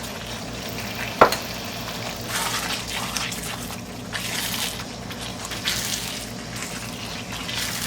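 Boneless chicken pieces fry in a hot pan with a steady, bright sizzle, accompanied by stirring and a sharp clink near the start, with no voice over it.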